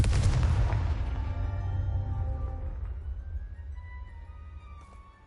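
A Confringo explosion spell cast in a video game: a loud booming blast at the start that rumbles and slowly fades over several seconds, with faint ringing tones in the tail.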